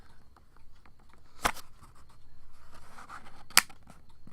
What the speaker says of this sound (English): This box actually clicks closed.